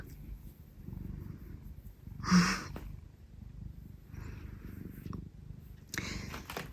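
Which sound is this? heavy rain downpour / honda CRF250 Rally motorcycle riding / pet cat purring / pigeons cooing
pet cat purring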